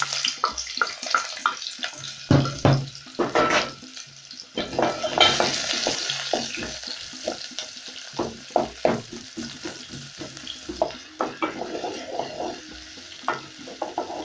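Onions frying in melted goat fat in a pan, with a continuous sizzle broken by many close clattering stirs and scrapes at an irregular pace, and no talking.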